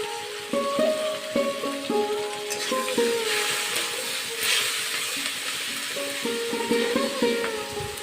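Slit green chillies and a little onion sizzle in hot oil in a frying pan, a continuous close crackle broken by stirring scrapes, with a high ringing tone running underneath.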